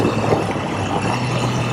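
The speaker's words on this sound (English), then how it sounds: "There's the downshifting." Triumph Trident T160 motorcycle, a 1975 three-cylinder bike, heard as a steady, loud engine drone with continuous broadband roar through its downshift, no clear voices over it.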